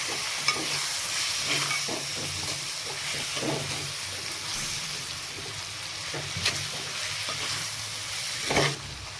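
Ground masala being stirred into a pan of boti (tripe) curry, a steady scraping stir over a soft continuous sizzle, with a few louder knocks of the spoon near the end.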